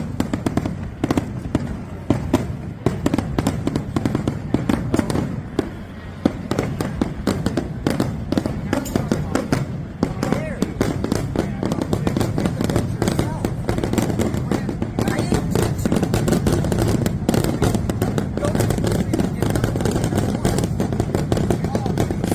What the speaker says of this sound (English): Fireworks thing's a little annoying.